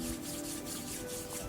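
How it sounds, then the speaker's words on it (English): A pair of hands rubs briskly together during a self-massage routine, producing a steady, close, soft friction swish that continues evenly without pause. "And just rubbing the hands."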